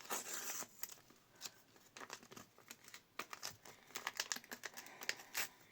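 A paper surprise packet is crinkled and torn open by hand, giving a run of close, sharp rustles and rips in irregular bursts with quiet gaps between them.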